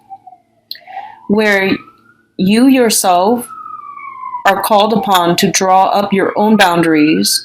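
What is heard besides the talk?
siren of an emergency vehicle passing outside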